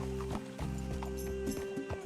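Horse hooves clip-clop in a steady walking rhythm in Red Dead Redemption 2, a quiet series of regular hollow clops with a faint background hum.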